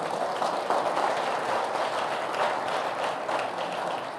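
A church congregation at a Sunday celebration service claps together in a dense, sustained wash of applause that fills the hall evenly for several seconds, with no voices rising above it.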